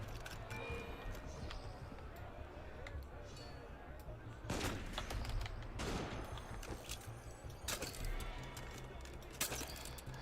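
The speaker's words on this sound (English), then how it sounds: "You wanted to play with guns? Let's play with guns." Gunfire in the video game Assassin's Creed Unity breaks out in several sharp bursts and cracks over a low background rumble, moderately loud, with quieter stretches between the shots.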